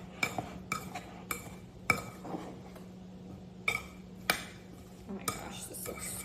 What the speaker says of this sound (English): we're gonna coat the peaches with this mixture